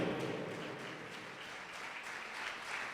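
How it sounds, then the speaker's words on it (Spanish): A church congregation applauding during a Spanish-language sermon, a dense, even wash of many hands clapping together, fairly distant and faint, sustained for the whole stretch. "Dale un aplauso al Señor en esta tarde"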